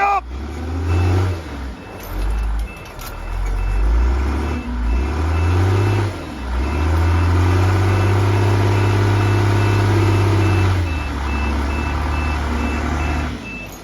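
A military loader works near an abandoned Titan 1 nuclear missile bunker, its loud diesel engine droning and surging while a steady series of evenly spaced reversing beeps sounds throughout.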